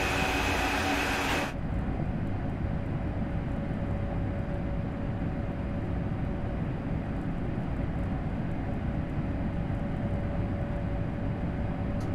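Train Sim World 3 locomotive running steadily in a train simulator game, a loud continuous low rumble with a sustained tonal hum, preceded by a brief burst of broadband noise at the very start.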